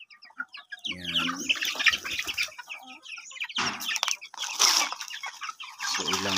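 Native chickens and young chicks kept on a rural Philippine farm, a busy mix of clucks, squawks and high peeping calls in irregular bursts, close by, with brief gaps between outbursts.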